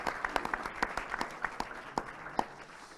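Audience at a French political debate on cannabis legalisation applauding a speaker: a sparse, uneven patter of individual claps from a modest crowd in a hall, fairly faint, with no talk over it.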